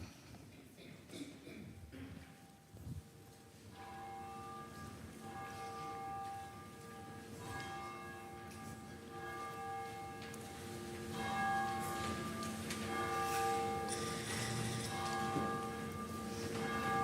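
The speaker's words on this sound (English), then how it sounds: "And now let us enter into worship with the ringing of the bell." A church bell rings out repeatedly at the start of a Sunday worship service, its sustained metallic tones layering and swelling over several seconds after a brief stretch of quiet room sound.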